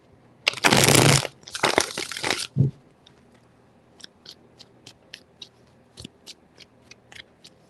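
Tarot cards shuffled in two loud, close riffling bursts, followed by a series of light, evenly spaced taps and snaps as the deck is handled and cards are set down, with no talk.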